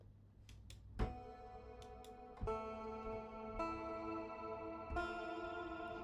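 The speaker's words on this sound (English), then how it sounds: "Quite a lot of reverb." Sad song played with heavy reverb and echo effects, sustained chords struck in a few distinct hits that ring out and wash together into a long, spacious tail with no voices.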